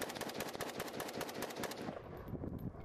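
An AKM rifle fired at an outdoor shooting range, ten rapid shots from five yards in under two and a half seconds, a fast even string of cracks that ends and leaves quiet air.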